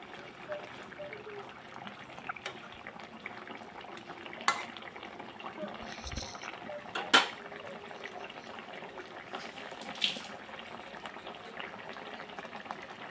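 A Bengali pabda fish curry with eggplant simmers in a pot, giving a soft, steady bubbling close by, with a few sharp clinks and light stirring knocks scattered through.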